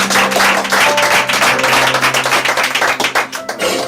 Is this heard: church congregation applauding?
yes